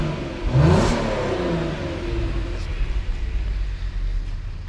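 VW Golf R32 with a warm engine blipped once, a quick rising rev that swells loudly and then falls back to a low, steady idle burble, heard up close.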